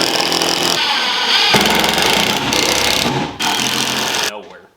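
Power drill driving screws to mount a trolling motor on a cheap jon boat being converted to a bass boat, heard as loud, close whirring bursts with brief changes in pitch, ending abruptly.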